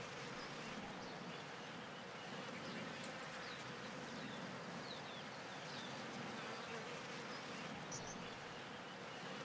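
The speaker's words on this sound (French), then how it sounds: "On a nos petites abeilles." Bees in the Terra Nil video game make a soft, continuous insect buzz under a faint ambient bed, steady throughout with a few light high chirps near the end.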